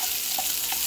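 Garlic and onion frying in a pan for Filipino pancit bihon give off a brief, steady sizzle with a soft hiss, close by and with no one talking.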